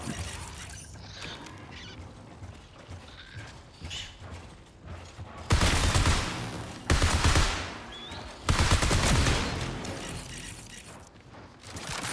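Bursts of rapid gunfire in the video game Marathon crackle in three loud volleys over a steady mechanical background, the shots dense and rattling like automatic weapons.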